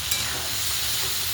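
Brinjal is stirred in a pan with turmeric, red chili powder and black masala, giving a steady, close frying sizzle with soft scraping throughout and no talk.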